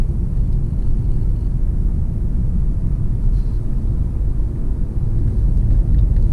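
A Mercedes-Benz C300 coupe driving down the road, a loud steady low rumble of engine and road noise from inside the car, constant throughout with no voices.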